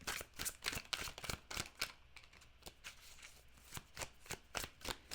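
Tarot cards shuffle in quick papery riffles and soft slaps, coming in irregular bursts with short pauses between them, close and fairly quiet, with no voices.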